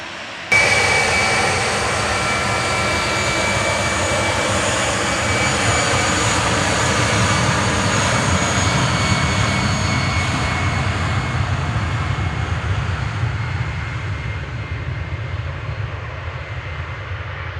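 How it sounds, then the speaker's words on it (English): Airbus A319 jet on its takeoff roll at Manchester Airport, bound for Brussels as flight 2184: a loud, steady engine roar with broadband rumble that holds strong throughout, then begins to fade slightly toward the end. "Airbus A319."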